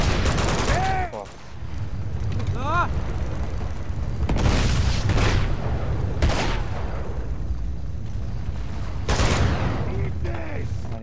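Uncharted 2: Among Thieves, final chapter: loud video game gunfire crackles in rapid bursts while explosions boom at several points. Someone talks over the firefight in places.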